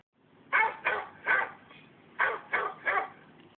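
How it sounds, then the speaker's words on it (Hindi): A dog barks loudly and close, six sharp barks in two groups of three with a short pause between, clear against a quiet background. "और वो जोर जोर से भौंकने लगा।"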